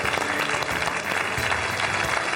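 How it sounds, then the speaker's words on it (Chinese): A studio audience bursts into dense, steady clapping to welcome a guest doctor on a Beijing television health show; the applause is loud and continuous throughout, with no pauses. "咱掌声欢迎吧。"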